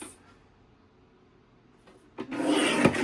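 A paper trimmer blade slides through cardstock in a short, brisk cutting stroke that swells loudly near the end after a quiet stretch, heard alone with no talking.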